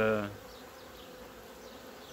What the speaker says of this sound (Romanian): așa stă albina pe ultima ramă